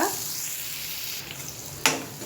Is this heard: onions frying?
yes